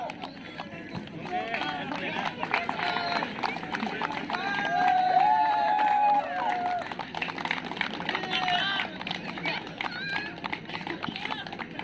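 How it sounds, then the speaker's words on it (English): A crowd at a tournament prize presentation applauds and cheers for the player of the tournament; dense, steady clapping and voices run throughout at moderate loudness, swelling slightly in the middle, with chatter mixed in. "A huge round of applause for him"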